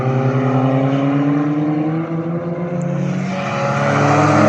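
Racing cars on track at Cadwell Park, a Vauxhall VX220 chasing Porsches, their engines droning loudly with shifting pitch as they pass close by, steady and continuous with no talking.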